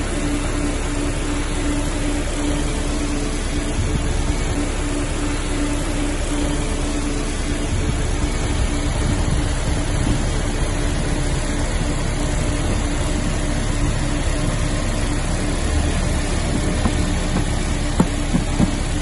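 A 1994 Mercedes-Benz C180 fitted with an HHO fuel saver runs at a steady idle, a continuous low engine drone with even hum and no talking.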